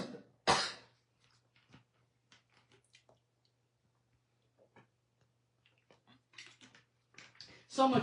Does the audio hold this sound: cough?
yes